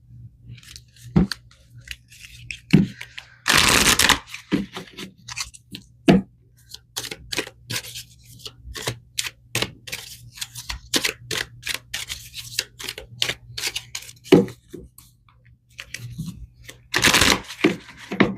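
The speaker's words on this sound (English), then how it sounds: "All right, let's pull some more cards." A tarot deck is handled at close range, with two loud bursts of riffle shuffling and many soft, scattered card snaps and slides between them as cards are pulled and laid out.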